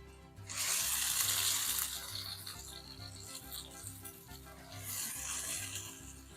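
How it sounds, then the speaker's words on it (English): Tomato and onion frying together in a pan for Mexican-style scrambled eggs, with a broad close sizzle that swells, eases off and then rises again, over a faint low hum, with no talking. "After a few seconds of cooking the tomato and the onion together"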